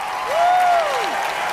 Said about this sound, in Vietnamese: bây giờ tất cả chúng ta hãy dành một tràng pháo tay cuối cùng dành cho trận chung kết này đi ạ